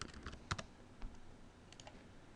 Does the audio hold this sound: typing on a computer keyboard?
yes